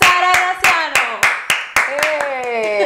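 Studio audience on a Spanish-language TV show claps to welcome Dr. Sara Graciano, sharp hand claps ringing out over a held tone and a voice running through.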